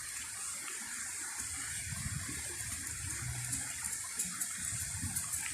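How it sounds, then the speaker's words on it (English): Fresh mountain water flows steadily into a resort pool, a continuous close-up rush and splash with no pauses and no voices. "Fresh water comes down from the mountains."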